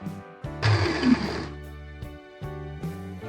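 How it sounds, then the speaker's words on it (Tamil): An electric mixer grinder grinds chutney made from oil-sautéed ingredients without water, giving a short loud whirring burst of about one second amid intermittent mechanical humming and clicks. "சூப்பரா அரைச்சிருச்சு."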